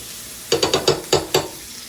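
A New York strip steak frying in a pan with butter gives six quick sizzling bursts in a loose rhythm, close and fairly loud over a faint background hiss.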